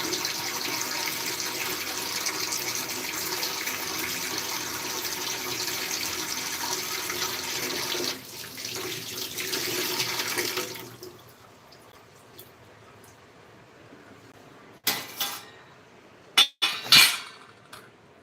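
Items are rinsed under a running tap in a sink, a steady rush of water for about ten seconds that then stops, followed by a few sharp clinks and knocks as washed things are set down.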